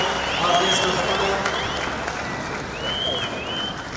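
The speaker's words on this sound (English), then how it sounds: "A big round of applause for our guest of" A big crowd applauds a guest of honor at the launch of the Munhumutapa Challenge Cup. The dense, steady clapping lasts the whole stretch and rises slightly near the start.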